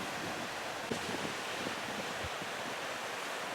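High sea waves and strong wind in bad weather make a dense, roaring wash of surf with heavy wind buffeting the microphone. It stays loud and constant, with a few low thumps and no voices.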